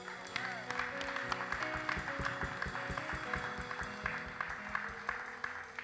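A church congregation claps in steady rhythm to praise music, the even beat of many hands mixed with sustained musical tones and some voices.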